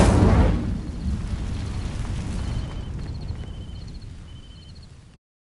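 An Incendio fire spell in a video game sets dry vines alight: a strong whooshing burst at the start settles into a steady roaring crackle that slowly fades, with faint chiming tones above it.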